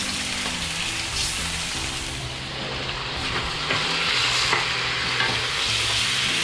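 Pork short ribs sizzle loudly in a hot pan while being stirred, a continuous close-up crackle with scraping and shuffling throughout.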